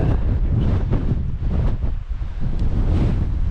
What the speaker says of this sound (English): Hopefully that wind protector's working good, because it is it's windy at the moment.